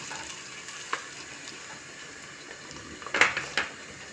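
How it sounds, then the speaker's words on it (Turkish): Onions frying in a pan give a steady low sizzle, with a few sharp scraping clatters of a utensil near the end. "Soğanlarımı güzelce kavuruyorum"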